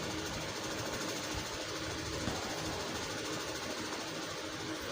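A sewing machine stitches around a dress collar with a steady, continuous mechanical hum and rattle that is close and fairly loud throughout, with no pauses.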